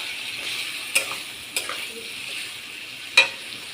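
Taro leaves and fried prawns frying in a pan, a soft steady sizzle broken by a few sharp stirring clatters near and alone.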